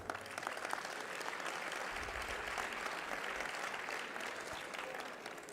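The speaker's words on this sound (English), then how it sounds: "with a round of applause." Audience applause at a UN Water preparatory meeting in Dakar, a sustained even clapping from a hall crowd lasting several seconds without speech.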